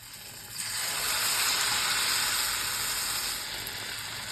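Banana fritters dipped in batter hiss and crackle in hot oil in a kadai, a bright sizzle that swells quickly after dropping in and holds steady, with no talking.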